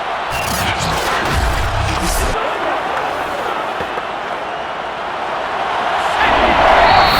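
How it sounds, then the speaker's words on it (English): Loud, roaring stadium crowd in a Madden NFL 22 football game between Denver Broncos and New Orleans Saints, a dense continuous wall of cheering that swells slightly near the end, with a commentator talking over it. "this crowd's going to get even louder"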